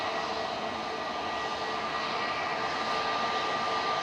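Aircraft departing Manchester Airport, a steady jet engine roar with a thin whining tone running through it, continuous and fairly loud.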